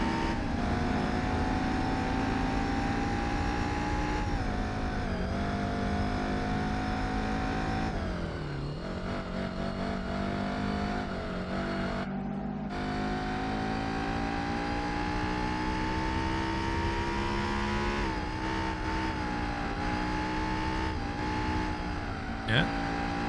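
A yellow Honda Civic EG6 in Gran Turismo 4 revs hard and continuously, its engine note climbing and dipping through gear changes, loud and close with no pauses.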